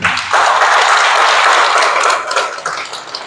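A crowd at a civic memorial ceremony and concert in a Seoul cathedral applauds to welcome the chairman, loud and dense at once, then thinning slightly toward the end.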